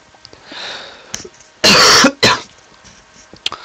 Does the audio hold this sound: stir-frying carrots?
no